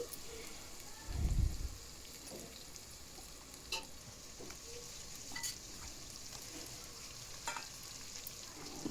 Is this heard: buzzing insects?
no